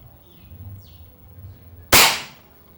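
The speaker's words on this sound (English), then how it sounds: "I'm going to shoot 5 JSP pellets just to check the speed" A single sharp crack from an Air Venturi air rifle firing a JSP pellet, loud and close, standing alone after a stretch of quiet room noise with faint distant chirps.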